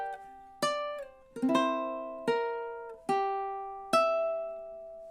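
Slow ukulele picking of a phrase from a song: about six plucked notes and chords, each ringing clearly and decaying, spaced unevenly with short pauses, close and alone without speech.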